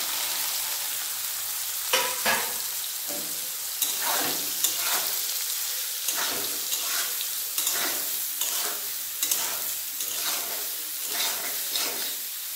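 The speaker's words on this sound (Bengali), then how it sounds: "তেলের মধ্যে দিয়ে দেবো সয়াবিন।" Soybean chunks frying in hot oil and stirred repeatedly, a loud steady sizzle broken by frequent scraping and clacking strokes of a spatula against the pan.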